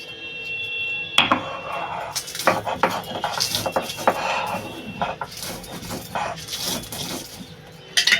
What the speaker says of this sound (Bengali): এই মশলাটা আমি শিলে বেটে নেব